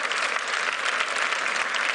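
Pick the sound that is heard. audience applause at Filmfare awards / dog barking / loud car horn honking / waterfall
audience applause at Filmfare awards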